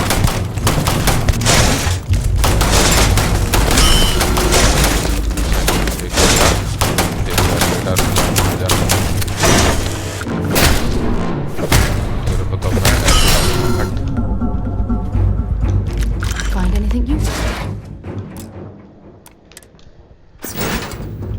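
Loud, dense gunfire and explosive booms from the sci-fi video game Starfield fill most of the stretch, with rapid bursts and heavy thuds before thinning out and briefly returning near the end.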